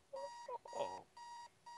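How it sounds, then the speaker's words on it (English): Loud repeated electronic beeping from a bomb in the video game Keep Talking and Nobody Explodes, sharp tonal beeps in a steady on-off rhythm, briefly overlapped by a faint voice in the middle. "I have loud beeping."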